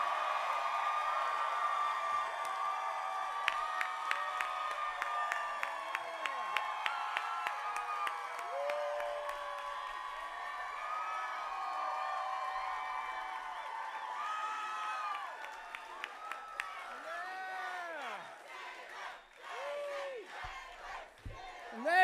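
A large crowd cheering and yelling at a campus political rally for an Arizona gubernatorial candidate, a sustained roar of whoops and shouts with rising and falling voices throughout.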